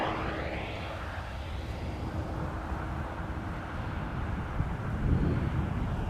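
A China Southern Cargo Boeing 777 freighter arriving at Amsterdam Schiphol from Shanghai sounds as a fairly faint, distant engine rumble with some wind buffeting, building a little toward the end.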